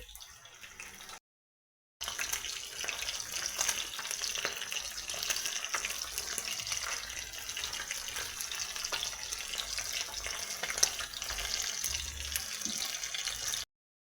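Fish pieces frying in hot oil, a steady close sizzle with fine crackling and occasional popping spits, continuous and fairly even after a brief gap near the start.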